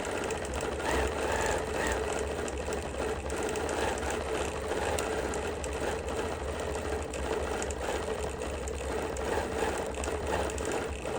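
A BERNINA Q24 longarm quilting machine with Q-matic stitches a custom quilt in one continuous, steady, close mechanical whir that holds an even level from start to finish.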